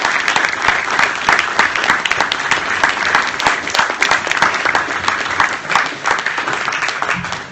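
A debate audience applauds the panellists in a sustained, dense burst of clapping that continues without talk.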